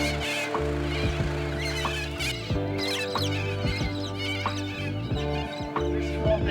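Birds call steadily around a roadside lunch stop in the Australian desert, with clucking, chattering calls close by and layered over a constant engine-like hum.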